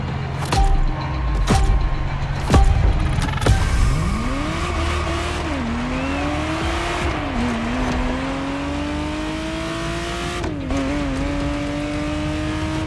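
A Ferrari Testarossa in the video game The Crew Motorfest revs and accelerates steadily, its engine note climbing and holding loud and close, with a few sharp transient knocks early on and brief tire squeal.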